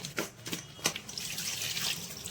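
Tap water runs steadily into a kitchen sink while red pomfret fish are rinsed clean, with a continuous hiss of flow and a few brief splashy bursts, close and fairly quiet, no voices.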